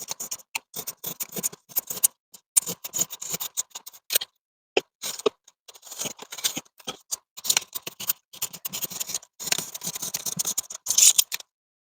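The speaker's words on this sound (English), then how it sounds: "We're going to take this knife. I'm going to run along here and cut this piece off." A knife scraping and slicing to cut a piece off, heard as close, irregular bursts of crisp rasping strokes separated by short silences.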